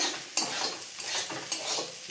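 A spatula stirs spiced fried potatoes in a pan cooked with only a little oil, with three distinct scraping strokes over a soft, steady sizzle and no talking.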